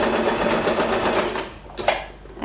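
A sewing machine runs steadily, stitching fabric for a bow with tails, then halts partway through, leaving a quieter stretch with a couple of soft clicks.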